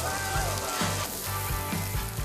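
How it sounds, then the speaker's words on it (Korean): Korean hanwoo beef sizzles on a grill in a busy restaurant, a loud, steady crackle close by, with a few soft low thumps underneath. "이 지글지글 소리는 언제 들어도 참 좋은 것 같네요."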